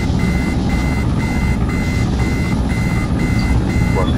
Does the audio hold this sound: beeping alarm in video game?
yes